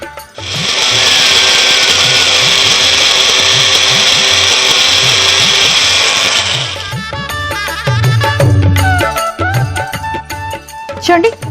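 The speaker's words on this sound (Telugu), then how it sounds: "గ్రైండ్ చేసేటప్పుడు కొంచెం ఇబ్బంది అనిపించవచ్చు, ఎందుకంటే మిక్సీ బ్లేడ్స్ తిరగవు." A mixie grinder churns thick imarti batter, a loud steady whirring drone for about six seconds before it stops, followed by scattered clatter and handling noises.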